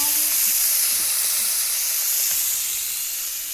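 Fish curry with onion, garlic and ginger masala sizzles steadily on a stove, a constant bright hiss and steam that fades slightly near the end.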